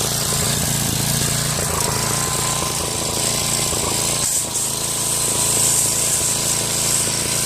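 A Tecumseh 5HP Enduro horizontal-shaft engine drives a 2000 PSI pressure washer, running with a steady, loud, close mechanical drone and a rattling, hammering texture that holds evenly throughout.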